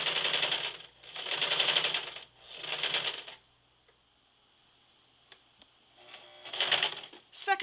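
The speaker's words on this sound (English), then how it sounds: "This time sewing from the bottom up," A sewing machine stitching a replacement zipper into a pair of jeans runs in short, rapid bursts with pauses between them, close and fairly quiet.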